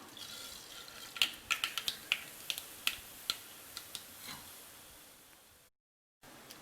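Mustard seeds spluttering in hot oil in a kadai, a scattered run of sharp pops and crackles, a dozen or so close, irregular bursts that thin out toward the end before a brief silence.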